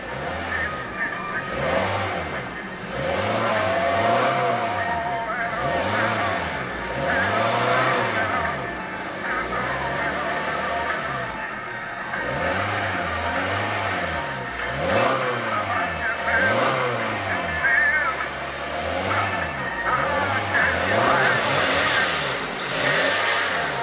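A 2015 Honda Fit's 1.5-liter four-cylinder engine revs repeatedly, each throttle blip rising and falling in a regular cycle, close and fairly loud, with the engine note wavering throughout.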